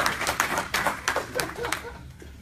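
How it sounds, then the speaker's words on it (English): Scattered clapping from an audience at a Gladiacoin cryptocurrency investment presentation, a steady run of sharp hand claps close by for a couple of seconds. "Let's give him a round of applause."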